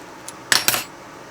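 A knife slices through a block of homemade Amish Velveeta cheese, giving a couple of quick, close metallic clicks and scrapes against a hard surface, then quiet.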